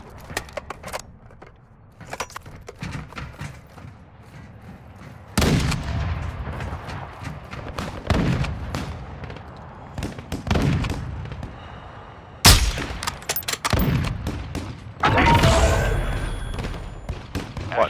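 Gunfire in a video game: loud, close bursts of shots in irregular volleys over about eighteen seconds, with quieter scattered shots and clatter between them.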